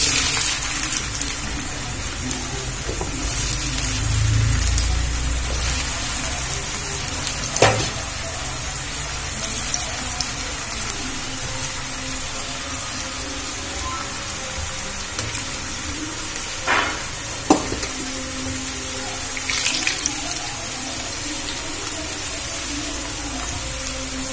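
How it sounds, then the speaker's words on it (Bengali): Potato sticks for french fries bubbling in hot white oil, a dense continuous sizzle like rain on a surface, with occasional clinks and stirring knocks, no talking. "তেলটা গরম হয়ে গেছে, এবারে আমি আলুগুলো এর মধ্যে দিয়ে ভেজে নেব।"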